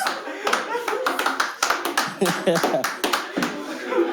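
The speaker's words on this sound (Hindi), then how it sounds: "इनकी तालियां बता रही हैं कुछ" Scattered audience clapping at a comedy reaction show, with uneven bursts of claps mixed with chuckles and speech running over them.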